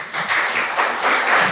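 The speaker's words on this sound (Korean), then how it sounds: "여러분 이준배 전 부시장을 박수로 모시겠습니다." Audience applause welcoming a former deputy mayor onto the stage at a book concert and talk show, a steady wash of clapping that swells and holds for the whole short stretch with no voices over it.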